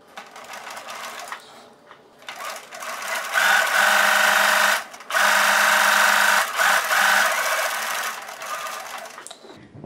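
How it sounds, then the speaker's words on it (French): A sewing machine running a straight stitch at stitch length 3, whirring steadily in several long runs with short pauses between them, close and loud. "on allonge le point à 3 et on va piquer au point droit"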